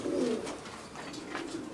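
Madrasi pigeons coo close at hand: a clear, throaty low coo at the start, then fainter murmuring coos, with no talking.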